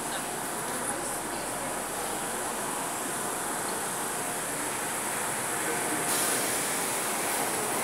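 A train pulling out of a station, a steady broad rumble and hiss of rolling cars that stays constant throughout with a faint high whine.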